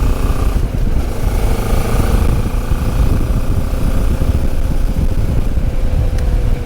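A QJ Motor SRT 700 SX motorcycle engine idles steadily and close by, a constant low rumble with no pauses.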